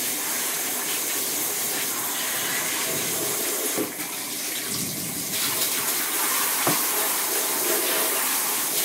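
Gaiters being rinsed under a strong pressurized water spray, a loud steady hiss of rushing water that shifts briefly as the stream moves across the fabric.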